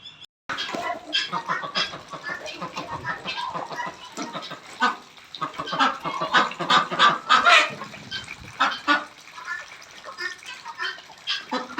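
Ducks and chickens kept in a garden make loud, repeated honking quacks from a male duck, harsh calls bursting out in uneven clusters close by and filling most of the stretch.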